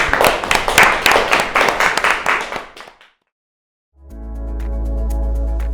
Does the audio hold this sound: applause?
yes